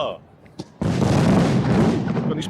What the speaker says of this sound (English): I'm starting with a bang with some 30th episode fireworks